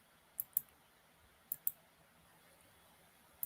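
Computer mouse clicking during a live custom jewelry design session, sharp quick clicks in pairs separated by short pauses, close and clear over quiet room hiss.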